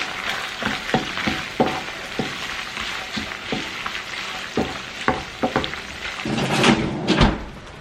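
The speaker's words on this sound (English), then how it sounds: "Now I need to stir it all." Beef and broccoli fry in a pan, with a steady sizzle under scattered scraping and clacking stir strokes, close by, with a louder burst of activity near the end.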